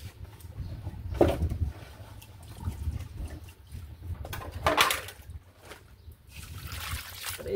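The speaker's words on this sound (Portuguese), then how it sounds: "a água vai ser adicionada aos poucos" Water is poured bit by bit into a plastering mortar mix made with sand, giving a steady liquid trickle and slosh with a few louder splashy surges, close and continuous, with no talking.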